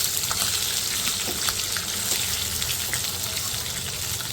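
Green chillies frying with curry leaves in hot oil, a crackling, spitting sizzle with scattered pops over a continuous hiss, close and steady, no speech.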